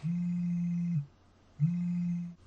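A phone rings after being located by a smart speaker request, two long, steady buzzing tones separated by a short pause, clear and moderately close.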